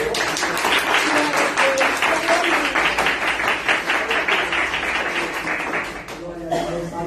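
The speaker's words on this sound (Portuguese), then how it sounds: "As palmas para o Senhor." A congregation claps during a church service, a dense, sustained applause with rhythmic clapping that continues for several seconds before thinning at the end, with voices mixed in.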